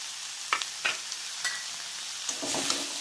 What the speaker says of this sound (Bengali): ভালো করে আবারও কষাবো